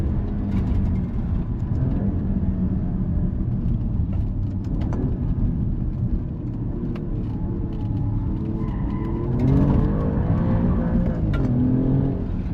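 An Alfa Romeo Quadrifoglio, Giulia or Stelvio, accelerating on the road, its engine a loud continuous drone from inside the cabin that climbs in pitch toward the end with a rising rev, no talk over it.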